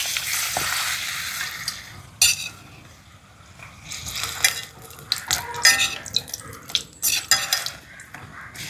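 Cashews frying in ghee in a home kitchen while a festive feast is cooked, giving a steady close sizzle with clinks and scrapes of a spoon against the pan, without talk.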